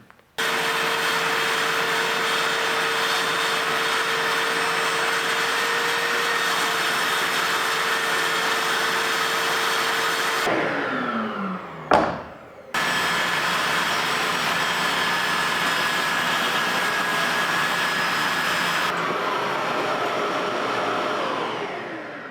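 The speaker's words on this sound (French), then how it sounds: "ma scie sous table est reliée à mon aspirateur" A loud, steady machine roar of a table saw connected to a dust vacuum while making a wooden cutting board, briefly interrupted by a cut-off and restart midway, then running on.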